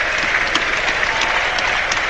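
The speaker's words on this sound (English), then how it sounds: "The Egyptian gets a big cheer." Football stadium crowd at Arsenal vs West Ham cheering as substitute Mohamed Elneny comes on: a dense, continuous roar of applause and cheers from a large, distant crowd, steady throughout with occasional sharper claps poking out.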